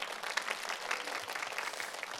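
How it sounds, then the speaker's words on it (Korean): A congregation at a women's Thursday church service applauds a woman pastor, with steady, dense clapping from many hands throughout and no voices over it. "여러분께서 제 속마음을 읽으시고 박수를 쳐주셨습니다"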